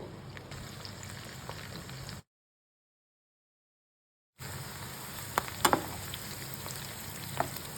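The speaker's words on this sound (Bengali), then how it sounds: "প্যানে বাটার আর তেল মিশিয়ে দিয়েছি। রসুনের কোয়াগুলো দিয়ে দিলাম, কাঁচা লঙ্কা, পেঁয়াজ" Garlic cloves, green chili and onion sizzle in a pan of butter and oil, a steady close frying hiss with a few brief crackles, interrupted by a gap of silence partway through.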